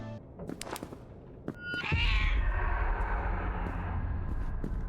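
A cat meows in the horror video game Order 13, one drawn-out cry with a rising then wavering pitch that starts about two seconds in over a low in-game rumble. No one talks.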